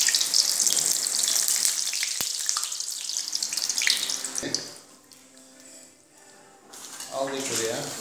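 Hot oil sizzles and crackles steadily as yufka dough is fried into a bowl shape for fried ice cream, loud and close at first, then quieting before the bubbling picks up again.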